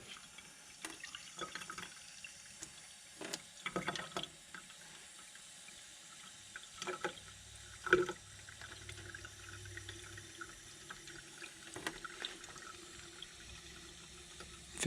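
Water running from a tap into a lab sink, quiet and splashy with a few louder clunks and drips over a low steady flow.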